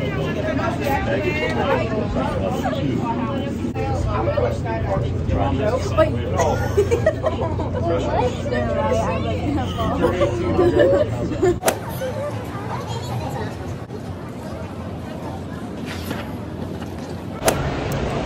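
Riding a resort shuttle bus in Orlando, a steady rumble of the moving bus under a constant babble of passenger chatter, with a couple of sharp knocks near the end.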